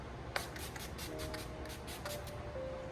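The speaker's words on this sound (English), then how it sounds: "Now I am going to actually spray my face with this Glow Mist by Pixie." Pixie Glow Mist facial spray lands on a face in a series of soft, close, rapid puffs, about half a dozen light bursts over a faint background hum, with no voices.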